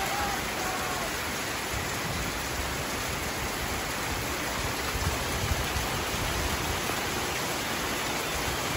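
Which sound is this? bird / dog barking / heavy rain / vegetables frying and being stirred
heavy rain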